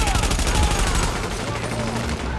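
Rapid video game gunfire rattles steadily throughout, close and loud, mixed with a dense combat soundscape while a voice talks over it.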